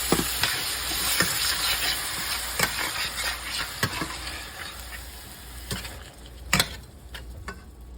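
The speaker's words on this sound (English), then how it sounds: "now I'm gonna add those beans and some diced tomatoes." Beans and diced tomatoes go into a pan of browning sausage, producing a lively sizzle with repeated stirring scrapes and sharp knocks of a utensil against the pan, fading somewhat toward the end.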